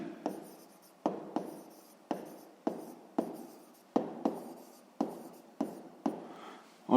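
Pen writing on paper while working a 6th-grade maths map-scale exercise: a close scratching of strokes, each starting with a sharp attack and then fading, repeating about every half second to one second, with no talking.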